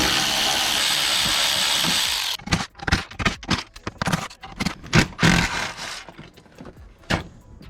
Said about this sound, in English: you're gonna use an 8 millimeter to remove the two bolts holding the latch